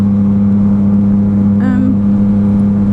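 A Yamaha Niken three-wheeled motorcycle's engine drones steadily up close, with a short rise in pitch about halfway through as it pulls harder.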